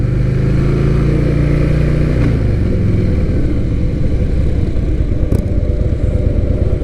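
A 2020 Indian Chieftain Elite motorcycle idles close by with a loud, steady, lumpy rumble, and its engine note shifts partway through.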